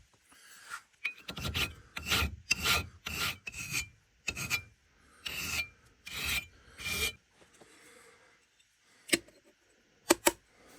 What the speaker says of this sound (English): Now we're going to file it into nice, perfect shape.